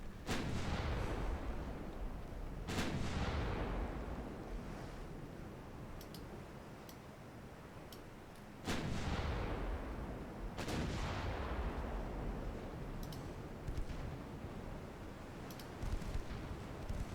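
Naval artillery salvos in a naval warfare video game, heavy booming blasts with long rumbling tails, two big bursts separated by several seconds, with sharp ticking interface clicks scattered between them.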